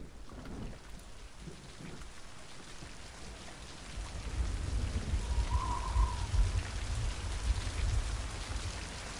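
Steady rainfall with low rumbling thunder in the video game Mind: Path to Thalamus, a dense hiss of falling rain that grows heavier and louder midway, heard alone without talk.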